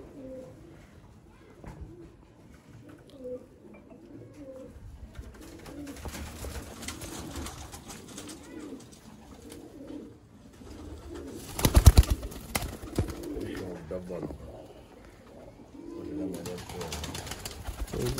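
Golden pigeons coo in a loft in Sialkot, repeated soft low calls close by, with a brief loud rustle or clatter midway and faint talk in the background.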